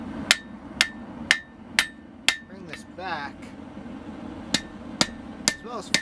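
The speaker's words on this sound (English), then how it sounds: "Now just do a little more refining with the hammer." A hammer rings on hot steel while a big one-piece Bowie knife is forged on an anvil, sharp metallic strikes coming at a steady pace, with someone briefly talking between blows.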